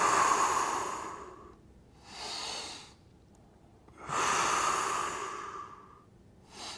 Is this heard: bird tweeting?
no